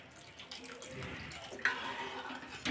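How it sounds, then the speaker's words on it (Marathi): A little water is poured into thick tempered dal in a pot, a close, soft trickling splash lasting a couple of seconds with a brief clink near the end. "थोडंसं पाणी टाकते मी, जरा घट्ट वाटत आहे"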